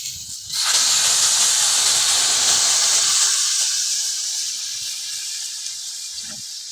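Water hits a hot pan of frying soybean dal masala with a sudden loud sizzle that flares into a broad steamy hiss, then slowly fades while still bubbling and crackling.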